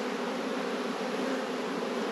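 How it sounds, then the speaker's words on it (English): Many honeybees hum in a dense, continuous buzz close by at an open hive during a spring inspection, steady and unbroken with no talking. "there are a bunch of bees in this colony"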